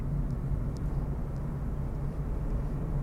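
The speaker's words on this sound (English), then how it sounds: "Suave, debonair, being attacked by a helicopter" Steady low mechanical rumble of a helicopter, dense and continuous, with no voices.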